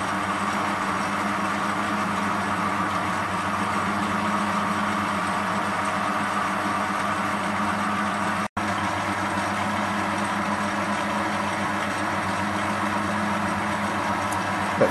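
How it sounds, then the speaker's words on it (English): A lathe turns a length of steel rebar dry, cutting without coolant, producing a steady, continuous mechanical whir and hum at moderate level with no voices, broken only by a momentary dropout near the middle. "It's pretty ordinary, but the metal is machining better dry."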